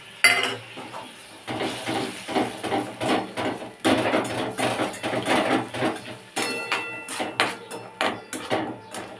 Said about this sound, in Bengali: মশলাটাকে কষাই